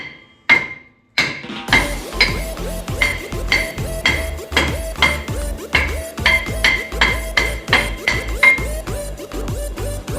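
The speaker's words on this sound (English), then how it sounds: "we're going to smack this rotor. Get it to come loose." A hammer hits a brake rotor on a Chevy Equinox over and over to knock it loose. The blows are loud, close and ringing metallic, coming in a steady fast rhythm after a few first strikes, with no voices.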